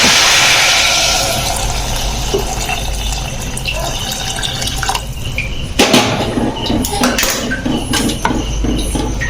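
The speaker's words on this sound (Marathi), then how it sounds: "गरम केलेल्या पाण्याचे घालायचं." Heated water is poured into a pot of chana dal and basmati rice for khichdi, a loud splashing fill at first that settles into gurgling and bubbling with a few clinks.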